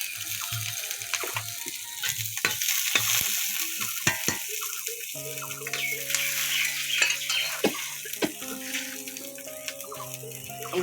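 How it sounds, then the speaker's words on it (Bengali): Onion, chili and kalonji seeds sizzle in hot oil, with intermittent scraping and clinks from stirring over a continuous frying hiss and faint sustained background tones. "এই যে কালি জিরা ফোড়ন দিলাম।"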